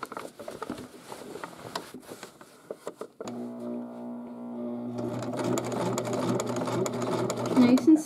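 Sewing machine stitching an insignia patch onto a blouse: slow single stitch taps at first, then a steady mechanical whir and hum running near and continuous, with a voice talking over it.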